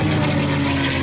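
A P-51D Mustang, the North American propeller warbird, roars overhead during an air display, its piston engine giving a dense continuous drone with low steady tones, loud and without voices.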